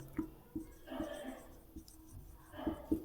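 Marker or chalk writing on a board during a chemistry lesson: faint, quiet scratchy strokes and taps in short irregular bursts, with soft room noise between them.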